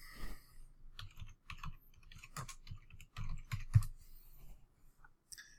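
Keys clatter in quick irregular bursts on a computer keyboard, close and fairly quiet, with brief pauses between runs of typing.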